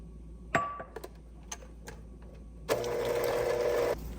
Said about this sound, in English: Now add 1 2/3 cup of milk and beat it again with your hand mixer.